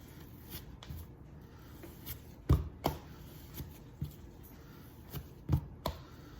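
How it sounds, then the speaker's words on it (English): Whole wheat bread dough is kneaded by hand on a work surface, making irregular soft thuds and slaps, close by in a quiet room with no one speaking. "I'm gonna go ahead and knead it again"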